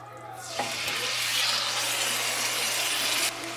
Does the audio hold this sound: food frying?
yes